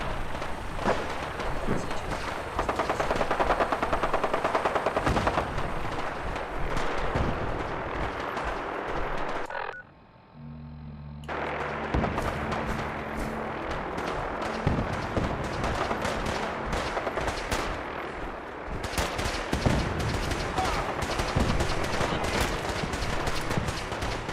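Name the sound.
gunfire in the video game Fallout 4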